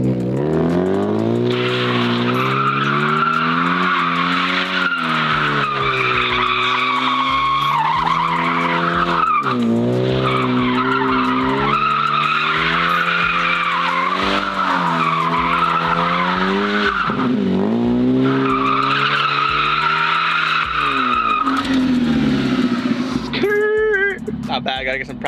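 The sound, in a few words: car doing donuts, tires skidding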